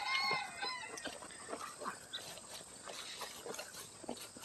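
Farm chickens and ducks call around a yard in a busy, continuous mix of clucks and quacks at moderate distance, with steady outdoor background noise.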